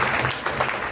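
Comedy show audience claps in a brief, dense burst of applause, close and fairly loud.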